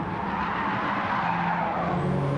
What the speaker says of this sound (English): looked like Vex sliding the car then